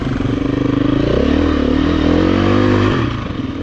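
Trail bike engine on a dirt trail ride, revving hard and close, a loud buzzing rasp that rises and holds through the middle before easing off, with some clattering underneath.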